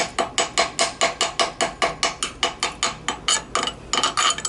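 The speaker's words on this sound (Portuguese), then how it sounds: "A hora que a gente quebra a escória aqui" A hammer chips slag off a stick-electrode weld on metal tubing, a rapid series of sharp, close metallic taps in an even rhythm, with a brief pause before a final flurry.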